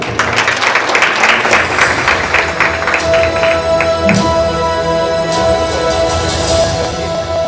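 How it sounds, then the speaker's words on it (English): An audience at a launch event applauds for the ICT cabinet secretary with loud, dense clapping that gradually thins and fades, leaving a quieter room tone. "Let's clap for him."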